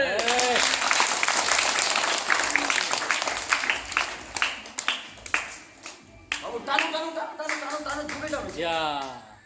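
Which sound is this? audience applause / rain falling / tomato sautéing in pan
audience applause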